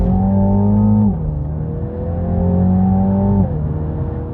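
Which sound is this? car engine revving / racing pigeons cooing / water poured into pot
car engine revving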